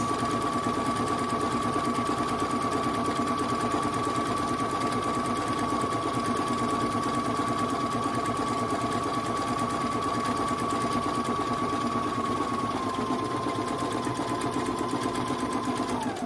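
A sewing machine stitching a pillowcase runs in a steady, close, continuous mechanical whir with a fast repetitive needle chatter, unbroken for the whole stretch and with no talking.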